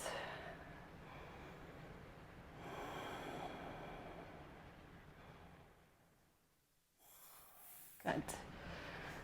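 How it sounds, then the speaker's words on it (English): Slow, deep breaths during a core-strengthening yoga practice, long airy inhales and exhales close to the microphone, followed by a sharp snort-like exhale near the end. "Deep breaths."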